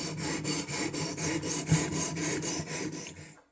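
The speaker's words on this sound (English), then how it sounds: "as I sharpen, I'm going to get rid of the bumps first" Rhythmic strokes of a knife blade rasping across a sharpening stone while repairing a Richards knife from Sheffield, England, about nine even scrapes, close and steady, with no talking.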